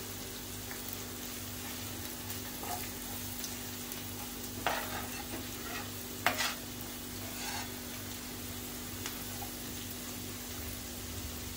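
Turmeric and homemade Koli masala are stirred into whole masoor dal. The stirring is quiet, with a few soft scrapes and clinks over a steady low hum and a faint simmer, and there is no talk.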